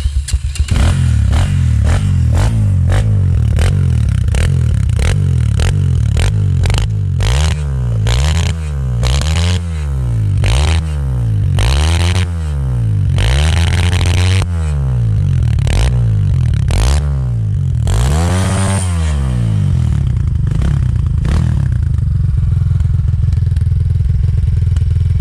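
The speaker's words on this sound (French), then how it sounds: "Après c'est de la bonne moto, ça démarre nickel à l'électrique." A motorcycle engine cranks on its electric starter and fires, then runs with a loud, throbbing idle and uneven revs, close by and without talking.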